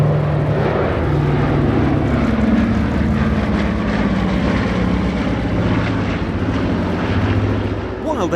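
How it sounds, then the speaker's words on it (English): A B-24A Liberator and a B-29A Superfortress, World War II piston bombers, pass at a military warbird airshow, a loud droning roar of radial propeller engines with throbbing beats that swells and shifts in pitch as they go by. "this time a pair of bombers, B-24A Liberator Diamond Lil and B-29A Superfortress Fifi"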